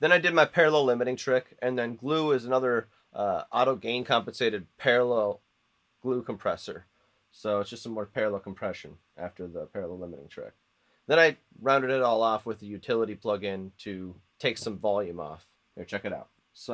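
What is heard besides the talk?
No everyday noise stands out behind the speech.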